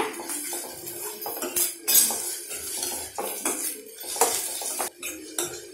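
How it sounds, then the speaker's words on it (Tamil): Vegetables sautéing with salt in a pan while a utensil scrapes and clinks against the metal in irregular strokes, close up, with a low background hum. "உப்பு போட்டு இதை வதக்கிடுங்க"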